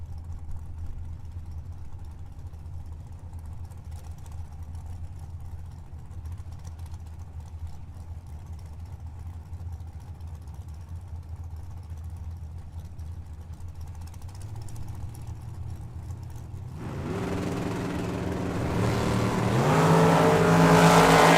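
A Corvette sits idling at the drag strip start line with a low, steady burble, then launches hard and roars louder as it accelerates away, the engine note climbing toward the end.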